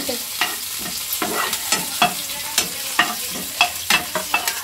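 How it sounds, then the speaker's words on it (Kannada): Onions frying in hot oil in a pan for vegetable Maggi, a close sizzle punctuated by sharp repeated scraping strokes of a spoon, steady and without talk. "ಈಗ ನೋಡ್ರಿ ಎಣ್ಣೆ ಅಂತೂ ಬಿಸಿ ಆಗೈತಿ. ಅದ್ರೊಳಗೆ ಫಸ್ಟ್ ಉಳ್ಳಾಗಡ್ಡಿನ ಹಾಕೊಳ್ಳೋಣ"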